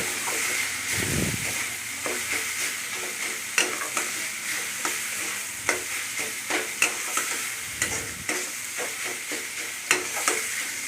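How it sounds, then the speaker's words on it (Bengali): Spices and chicken mince are stir-fried in a pan, with a constant sizzling hiss close by and repeated scraping and clattering of a spatula stirring the mixture, and no talking. "মশলাগুলো দিয়ে আবার ভালো করে ডিমার সঙ্গে কষিয়ে নেব ডিমাটাকে ভালো করে মশলার সঙ্গে কষিয়ে নিচ্ছি"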